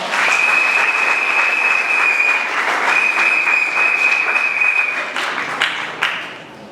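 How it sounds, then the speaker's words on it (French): Audience applause at the launch of the 8th food festival in Kinshasa, loud sustained clapping for several seconds before tapering off, with a steady high tone running beneath it. "nous pouvons les applaudir encore"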